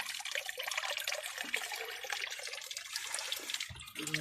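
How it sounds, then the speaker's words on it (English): Water is drained or poured out of a shallow container holding koi fry, a continuous close hiss and splash that swells with a burst of gurgling near the end. "Let's remove some of the water"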